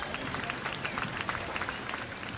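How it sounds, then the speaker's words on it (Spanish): A crowd at sunset claps in dense, steady applause, a sustained patter of many hands at moderate volume with a few sharper claps standing out. "El aplauso al atardecer."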